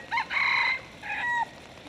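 A chicken in a Singapore park gives two short, nasal crowing calls, one after the other, fairly faint against a quiet background.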